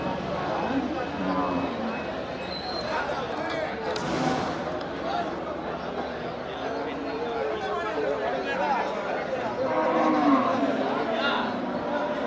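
Cattle at the Melapalayam cattle market moo amid steady crowd chatter, with traders talking close by over the low, busy murmur of the livestock fair.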